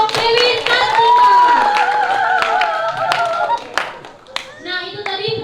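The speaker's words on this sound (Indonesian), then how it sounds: "Mari kita berikan tepuk tangan yang meriah pada kelompok Dewi Santika." Hands clap for the performing group Dewi Santika at a poetry-musicalization contest final during Bulan Bahasa, sharp claps scattered among prominent tonal voices and children's chatter.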